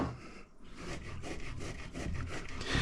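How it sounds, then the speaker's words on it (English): Pecorino Romano cheese rasps against a grater in quick, steady back-and-forth strokes, close and fairly quiet, with no talking. "I'm gonna grate some Pecorino Romano cheese here"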